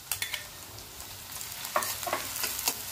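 Onion and crushed green chili thecha sautéing in a pan for Maharashtrian buttermilk pithla, a soft sizzle broken by scattered scraping stir strokes that grow busier in the second half, with no talk.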